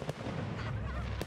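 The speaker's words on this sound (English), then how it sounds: "Fireworks show at the Brno Reservoir, Flames of Passion during Ignis Bruensis" Fireworks show over the Brno Reservoir during a city festival, a brief burst of dense crackling and booming with sharp pops standing out at the start and end.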